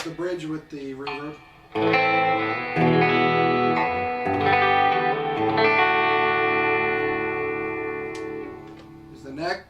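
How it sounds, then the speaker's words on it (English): A distorted Gretsch Players Edition Falcon electric guitar on its bridge pickup plays sustained, bright chords drenched in reverb, ringing out close and loud after a few short picked notes. "here's the bridge with the reverb."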